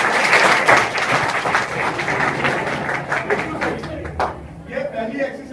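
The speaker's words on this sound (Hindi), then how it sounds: "ताली बजाओ इनके लिए।" A class of students at a coaching centre claps for classmates doing a stretching exercise, a dense burst of applause that thins out toward the end.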